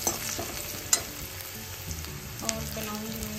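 Cauliflower for sabzi fries in a pan with a steady close sizzle and crackle, and a sharp utensil tap near the start and another later over the continuous hiss.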